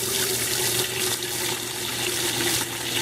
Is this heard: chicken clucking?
no